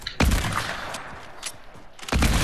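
Gunshots in the video game Fortnite: a sharp, heavy blast at the start, a fainter shot in the middle and another loud blast near the end, each with a short ringing tail.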